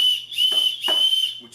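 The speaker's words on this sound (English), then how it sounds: "it has a little emergency whistle on it" Emergency whistle on a Maxpedition Sitka Gear Slinger bag strap, blown in three or four loud, shrill, steady blasts, close up, with short gaps between them.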